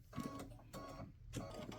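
Embroidery machine stitching small dots in a Halloween ghost patch design, a quick, close burst of needle taps that comes in three short clusters.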